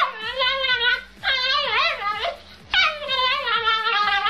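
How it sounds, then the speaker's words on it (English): A chihuahua yips and barks in rapid, high-pitched bursts, three excited runs of yapping separated by short pauses, loud and close. "beautiful chihuahua."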